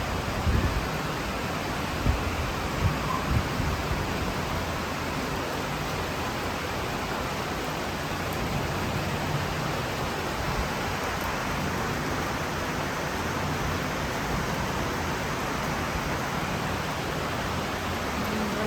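Heavy monsoon rain is heard from aboard a train as an even, hissing wash of noise, with a few soft knocks near the start.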